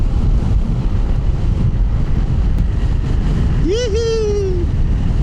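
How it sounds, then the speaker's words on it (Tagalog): A breeze by the Nambalan River in rural Tarlac buffets the microphone with a constant low rumble, and a voice briefly calls out near the end. "ang ganda ng simoy ng hangin dito"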